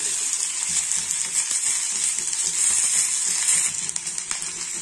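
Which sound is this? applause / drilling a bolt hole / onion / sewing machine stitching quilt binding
onion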